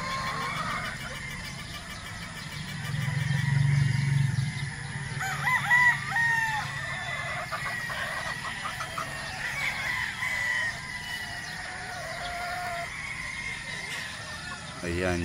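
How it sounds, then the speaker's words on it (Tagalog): On a game farm, bulik gamefowl roosters from J.M. Fantastic crow repeatedly at middle distance while hens cluck, with someone talking briefly over the flock and continuous farmyard noise. "Yan yung kaniyang mga inahin."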